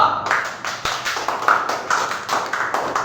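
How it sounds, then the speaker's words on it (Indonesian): Students in a classroom clap for a group, with a handful of distinct, fairly close claps in an uneven rhythm alongside some tapping and faint voices. "Berikan tepuk tangan untuk kelompok 2."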